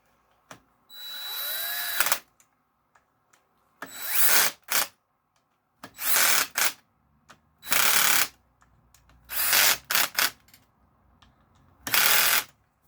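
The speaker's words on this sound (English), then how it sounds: "I'm going to loosen up my drill a little bit" A power drill whirs in short repeated bursts of one to two seconds each, with pauses and faint clicks between runs, close up.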